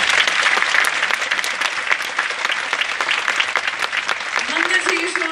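Sustained, dense audience applause in a hall after a musical concert performance, with a voice speaking over the clapping near the end.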